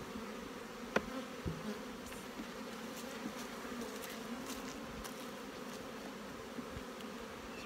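Honeybees swarm-hum steadily throughout an apiary during hive inspections, a dense continuous drone close by with no talking, broken by a couple of sharp wooden knocks early on and faint ticks scattered across the background.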